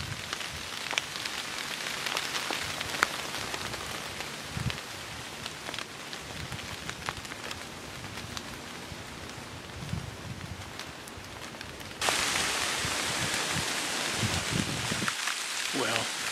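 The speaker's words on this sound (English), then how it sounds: "hopefully don't get too soaked before the rain quits." Rain falls steadily on the trees around a hunting stand, a dense, constant patter that grows louder and hissier for the last few seconds.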